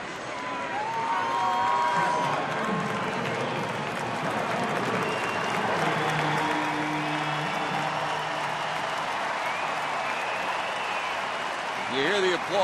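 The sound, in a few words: baseball crowd applauding a returning player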